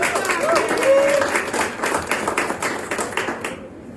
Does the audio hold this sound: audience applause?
yes